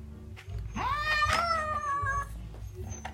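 A cat named Flocon lets out one long, drawn-out, complaining meow during grooming and dematting as a collar cone is fitted, close and clear over faint background handling noise.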